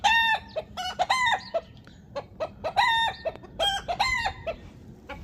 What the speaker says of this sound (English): these chickens can be noisy.